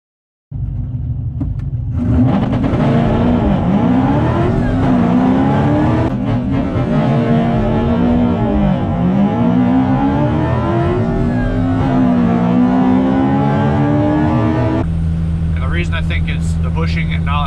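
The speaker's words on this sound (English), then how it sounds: "I'll throw in the clip right here, but when I'm shifting, I pull it back and there's a slight pause and hesitation before it goes into second gear." A 2007 Ford Shelby GT500 launches down a quarter-mile drag strip at Rockingham, its loud engine revving hard in a rising roar with audible gear-shift drops and a brief pause before second gear, ending in a steady high-speed drone.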